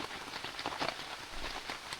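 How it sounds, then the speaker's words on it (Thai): Rain falls on a bamboo hut during a night-long downpour, a soft, steady patter that stays faint and even throughout. "ฝนตกวันนี้นะ"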